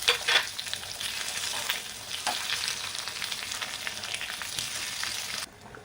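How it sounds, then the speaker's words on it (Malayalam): Sliced onions and curry leaves fry in hot oil for horsegram sambar, a dense, steady close sizzle with a few sharper crackles that cuts off near the end. "ഇനി ഇത് നമുക്ക് നന്നായിട്ടൊന്ന് വറുത്തെടുക്കാം"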